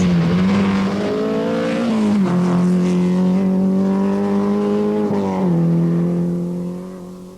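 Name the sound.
rally car racing through Brecon Forest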